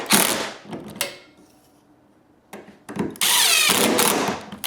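A power drill drives a screw through a piece of wood clamped inside a steel beam, with short whirring bursts, a pause, then a longer loud sustained run close by.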